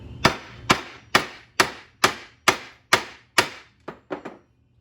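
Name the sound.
hammer pounding wire on vise anvil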